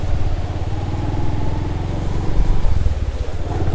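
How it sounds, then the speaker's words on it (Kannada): A motorcycle rides along a rough off-road track beside a flowing river near hills, its engine a steady, close low drone with slight rises in throttle and no speech. "ನಮ್ದೇ ಫಸ್ಟ್ ಬೈಕ್ ಹೋಗ್ತಾ ಇರೋದು"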